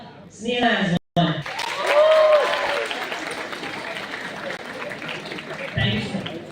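Audience at an academics day event cheering and applauding in a hall, a sustained swell of clapping and shouts that rises after a brief pause, with voices mixed into the crowd noise.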